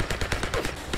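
Enemy gunfire in the 63 Days video game, a rapid burst of about a dozen close, loud shots in quick succession.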